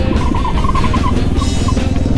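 Honda Grom motorcycle riding offroad, its small engine droning steadily and fairly loud throughout, with a wavering high whine riding over a dense low rumble.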